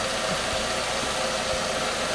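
Warmed-up 2012 Nissan Versa SV 1.6L idling nearby, a continuous even mechanical drone with faint rhythmic ticking and vibration, no voices present.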